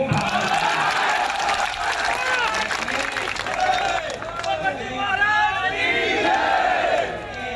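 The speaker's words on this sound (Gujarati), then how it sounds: "કેશાજીના સંબોધનમાં જે તાળીઓ પડી રહી હતી" A crowd claps and cheers at a political rally speech, a broad, sustained wash of applause and shouting heard at a distance that swells and eases but never stops.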